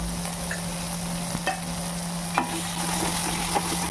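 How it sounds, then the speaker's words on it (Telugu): Ginger, garlic and curry leaves frying in a little oil in a pan for a dal dish, a steady close sizzle with a few light scrapes and taps of stirring, no voices. "అల్లం ఎల్లిగడ్డ, కరివేపాకు."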